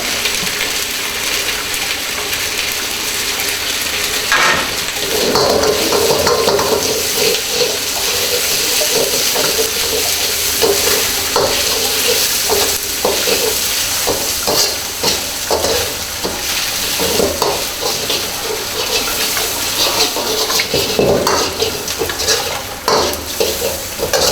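Onion, garlic and vegetables stir-fried for black pepper beef in a food production class kitchen, with a steady loud sizzle under repeated scraping and clanking of a spatula against the pan throughout.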